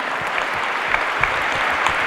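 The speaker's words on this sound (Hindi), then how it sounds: "एक बार जोरदार तालियों के साथ स्वागत हो।" A seated audience at an inauguration session gives steady, dense applause to welcome an honoured guest, continuous and fairly loud throughout.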